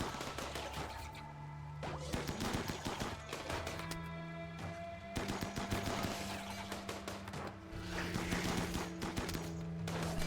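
A RimWorld turret shooting at attacking insects, rapid cracking gunfire bursts in uneven volleys over a steady musical drone, moderately loud and with no voices.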